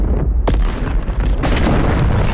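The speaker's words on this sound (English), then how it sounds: "One more for that final explosion." A massive explosion in the anime 86 Eighty Six: a loud, deep, rumbling boom fills the whole stretch, with a sharp crack near the start and further blasts rolling through it.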